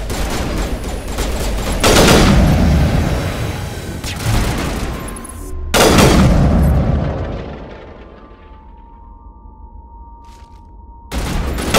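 Gunfire in a Mass Effect video game firefight: bursts of rapid shots and heavy booming blasts, loud and dense, then a fading rumble and a final burst.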